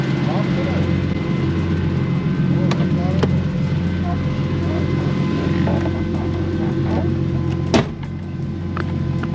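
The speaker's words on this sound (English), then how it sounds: "I'm gonna go ride in Sam's E30" BMW E30 engine drones steadily inside the cabin during a ride, a loud constant low hum with a brief clunk near the end, and people talk over it.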